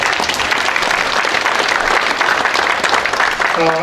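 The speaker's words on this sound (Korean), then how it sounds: "박수로서 환영해 주시면 고맙겠습니다." An audience at a memorial ceremony for President Syngman Rhee applauds to welcome a guest professor, a steady, dense round of clapping from a sizable crowd, loud and continuous, with a voice starting to speak at the very end.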